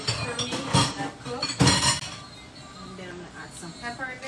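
A shrimp and cream mixture stirred in a pan, with a couple of sharp utensil clinks against the metal followed by softer scraping and bubbling, while a person talks over it.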